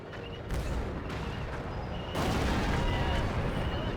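Tank and artillery gunfire in a real-time strategy war game, a dense rumbling barrage of booms that swells louder midway and keeps rolling without a break.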